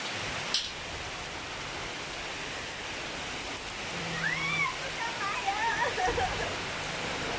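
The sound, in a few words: heavy rain pouring down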